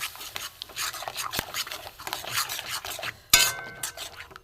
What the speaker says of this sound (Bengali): এটা আমি একটু কষবো।